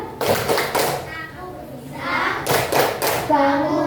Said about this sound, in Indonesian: ayo kita coba lebih semangat lagi dengan tepuk semangat